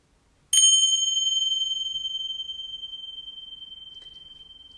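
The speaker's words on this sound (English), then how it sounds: "just listening to the bell, listen to that sound." A single struck meditation bell rings out clearly after a moment of near silence, its bright sustained tone slowly fading over several seconds with no talking.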